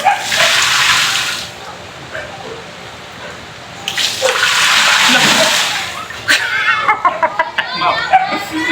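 Water gushes and splashes over the rim of a bathing drum in loud bursts, with a person exclaiming and chattering in between and some sloshing as someone moves in the water.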